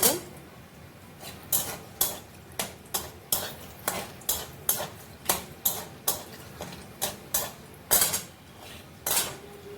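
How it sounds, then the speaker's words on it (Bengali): A spoon scrapes and clinks repeatedly against a wok while whole garam masala is stirred in ghee, a steady series of sharp metallic knocks under a faint sizzle. A voice speaks quietly over it. "গোটা গরম মশলা, এটা কড়াইতে ঘি দিয়ে এটা দিলাম, একটু নাড়াচাড়া করে নিই"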